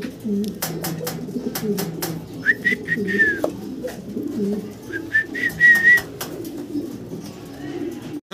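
Pigeons coo in low, throaty murmurs amid repeated sharp clicks and taps, with a couple of brief whistles rising over the birds.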